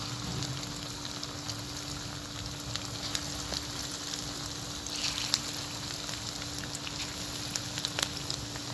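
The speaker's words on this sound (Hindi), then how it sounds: "ऐसे डाल के सारी फ्राई कर लेंगे।" Masoor dal pakoras fry in hot oil, giving a steady close sizzle with scattered crackling pops that runs unbroken throughout, with no talking.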